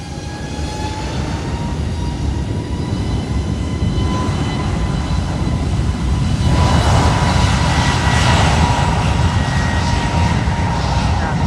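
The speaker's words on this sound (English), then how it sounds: "That is a full power takeoff" An Iberia jet airliner makes a full power takeoff at San Juan airport, a loud sustained engine roar with a steady whine that swells and grows rougher partway through.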